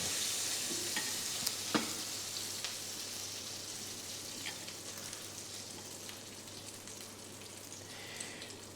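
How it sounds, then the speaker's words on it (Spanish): Potatoes coated in flour and egg frying in a pan, a soft continuous sizzle with faint crackles and a few sharper pops, steady and fairly quiet throughout. "No hace falta que se frían totalmente las patatas, simplemente la parte exterior."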